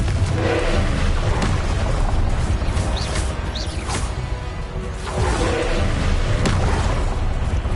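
Repeated magical blasts from the Confringo fire spell in a video game, a continuous loud roar of booms and whooshes with several sharper impacts layered over dense battle noise.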